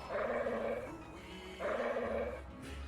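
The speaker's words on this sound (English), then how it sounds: "Oh, okay, that's the dog. I was like, what the fuck is that noise?" A dog in the point-and-click video game Broken Sword II growls in two long, low rumbling bursts separated by a short pause, fairly loud and close with no talk over it.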